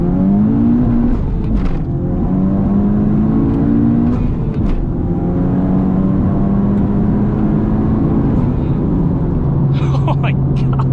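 A 500-horsepower big-turbo Honda Civic Type R pulls hard through second gear, its engine note rising in long sweeping harmonics with a faint whistle near the end, loud and close throughout.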